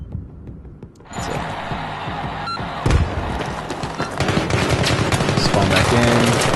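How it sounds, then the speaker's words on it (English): Gunfire from a Battlefield 3 Rush match, dense and continuous, with rapid bursts and a loud shot near the three-second mark over constant battlefield noise. "Hear more gunfire."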